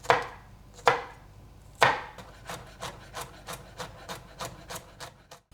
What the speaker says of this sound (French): Je vais également utiliser une gousse d'ail. Hop, je vais tout simplement l'éplucher. Et ensuite, je vais pouvoir la hacher.